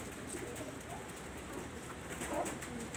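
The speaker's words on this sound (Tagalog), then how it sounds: "mga nagbabaan na kalapatids" Pigeons coming down to land give soft, low coos at a modest distance, a few faint calls over quiet outdoor background, with no speech.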